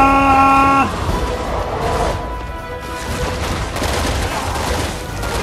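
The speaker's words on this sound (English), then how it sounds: "I'm shooting him in the ass" Gunfire in Resident Evil 6 during Ada's campaign finale, a brief tonal chime giving way to a steady stream of shots and crashing impacts, loud and close, with no talking.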